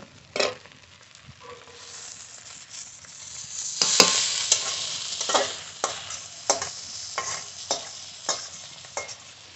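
Half-boiled chana dal fries in a pan with fried potato and pumpkin for khichuri, as a spoon stirs and scrapes in repeated sharp strokes over a constant crackling sizzle, close by.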